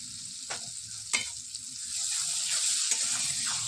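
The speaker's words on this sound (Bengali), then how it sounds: "এটা মশলাটা একটু ভালো করে ভাজা হোক।" Spices such as ground cumin fry and sizzle in hot oil for aloo fulkopi, with a steady close hiss broken by a few sharp stirring scrapes of a spoon in the pan.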